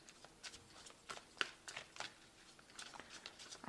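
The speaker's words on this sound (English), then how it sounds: "I have shuffled this deck." Tarot cards riffle and slide in a steady series of soft, rapid flutters, close and quiet, with no voices.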